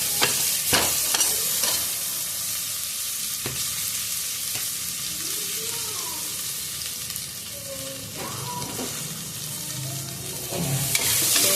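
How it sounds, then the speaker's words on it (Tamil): Constant sizzling of chopped onions and tomatoes cooking in a hot pan for chicken kurma, with occasional clinks and scrapes of a spoon stirring; no talking. "2 பெரிய வெங்காயம், 3 குட்டி தக்காளி நறுக்கி வச்சிருக்கேன். அதை போட்டுக்கலாம்."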